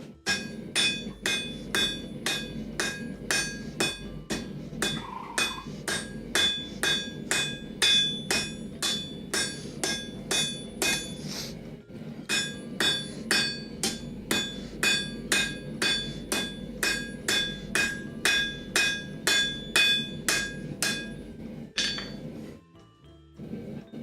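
Ball peen hammer forging S-hooks in a blacksmith's shop, striking metal in steady rapid runs of ringing blows with a brief pause midway, close and loud, without speech.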